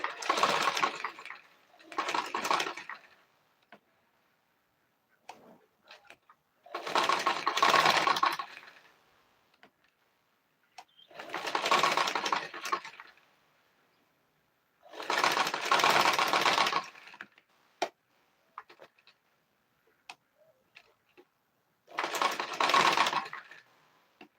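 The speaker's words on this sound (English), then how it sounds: "I'll be stitching from down to up this time" A sewing machine stitches a zipper onto a kids' dress in about six separate bursts of fast, buzzing whir, each several seconds long, with quiet clicks and handling sounds in the pauses between.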